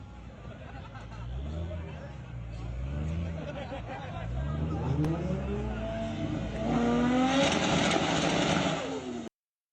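A car engine revs and rises in pitch several times, with crowd chatter and voices in the background.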